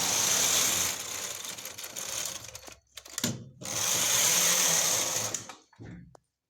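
A punch card knitting machine carriage sweeps across the needle bed in two long mechanical passes, loud and whirring with clicking, separated by a brief pause and a few softer clunks.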